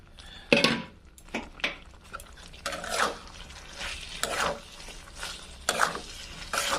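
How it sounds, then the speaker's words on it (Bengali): Boiled ash gourd pieces sauté with spices in a pan, with a low background sizzle punctuated by repeated loud scraping stirs and spatula clatter in uneven bursts. "কিছুক্ষণ ভালোভাবে কষিয়ে নিব"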